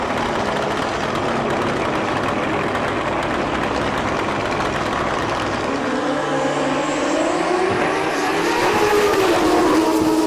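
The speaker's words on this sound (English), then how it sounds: "A lot of horsepower getting laid down by those bikes out there." Drag racing motorcycles in Pro Street qualifying at the Mancup World Finals, a loud continuous engine roar throughout with rising pitch toward the end as bikes accelerate down the strip.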